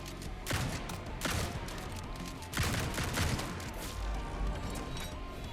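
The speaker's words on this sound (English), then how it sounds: "That shotgun's got some punch to it." Shotgun blasts in an action roguelite game about surviving thousands of demons: heavy, punchy booming shots in an irregular volley over roughly five seconds, loud and dense, with a steady din of game effects underneath.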